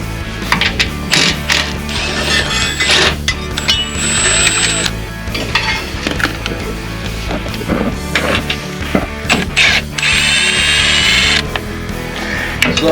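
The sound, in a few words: ratchet wrench removing 10 mm bolts on Jeep Gladiator fuel filter cover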